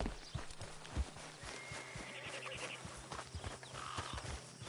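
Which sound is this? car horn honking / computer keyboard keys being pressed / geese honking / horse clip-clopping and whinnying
horse clip-clopping and whinnying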